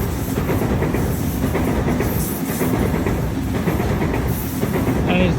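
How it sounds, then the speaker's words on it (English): A Sydney train rolls past on the tracks with a dense, steady roar and rumble of wheels on rail, close by and continuous throughout, with no voices. "I think one train has arrived."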